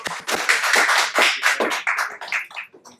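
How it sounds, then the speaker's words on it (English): A small audience at a club coach training session claps for a speaker, loud, close handclaps in an uneven burst that thins out and fades over about three seconds. "So please give a big round of applause to."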